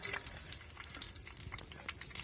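Grated coconut frying in a little oil on a hot tawa, a steady soft sizzle with light stirring scrapes, quiet and close.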